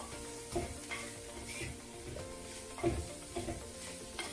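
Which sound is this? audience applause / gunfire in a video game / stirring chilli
stirring chilli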